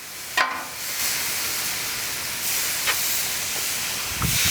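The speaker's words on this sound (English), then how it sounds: "Get that nice little sizzle on it." Blackened black drum fillet sizzling on a hot cast iron griddle outdoors, a steady broad hiss of frying that runs throughout with a few brief sharper spits, fairly close and loud, with no talking.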